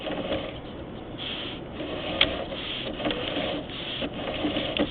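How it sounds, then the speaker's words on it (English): A household dishwasher running its drain cycle, with the pump giving a steady whirring, gurgling hum at moderate level for the whole stretch, with small rattles and no talking. "I think the dishwasher just started draining."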